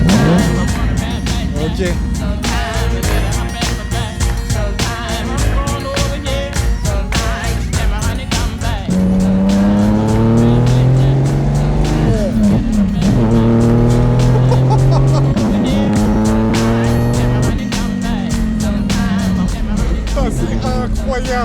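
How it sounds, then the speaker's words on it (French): A Ferrari engine starts and revs loudly, rising and falling in pitch through several revs with a raw mechanical roar, and a voice is heard briefly. "au fil des années, le bruit Ferrari a beaucoup évolué finalement"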